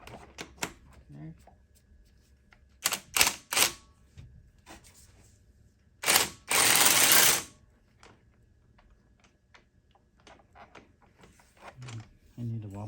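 A ratchet with a deep socket working a bolt during a clutch replacement on a 2000 Volkswagen Golf MK4 2.0L, heard as scattered metallic clicks and clacks with a few louder bursts of handling noise.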